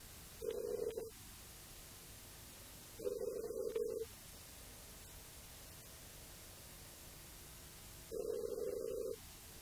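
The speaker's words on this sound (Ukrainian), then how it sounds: "за єдиним телефоном, вказаним на плакаті, нам відповіли лише гудки" Three bursts of a telephone ringing tone, each about a second long, separated by pauses over a faint steady hiss. No voices.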